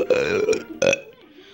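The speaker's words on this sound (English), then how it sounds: "don't burp, okay?" A loud, close, drawn-out burp with a croaking voiced tone, followed by a second shorter burp and a fading tail.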